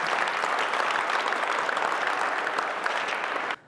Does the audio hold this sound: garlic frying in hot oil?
no